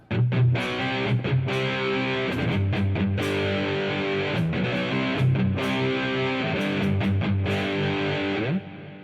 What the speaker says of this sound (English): As you can see here, we have a great powerful distortion